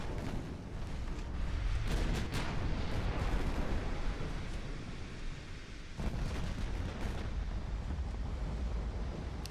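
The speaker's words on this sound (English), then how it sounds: "Massive hits on the battleship." Naval artillery shells strike a battleship in the video game Ultimate Admiral Dreadnoughts, a sustained roar of heavy booming impacts and rumbling blasts, with a fresh burst of thuds partway through.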